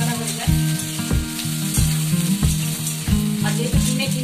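Tomatoes fry with onion, cumin and bay leaf in hot oil for egg biryani, giving a loud, close, continuous sizzle. A spatula scrapes the pan in regular strokes about every half second.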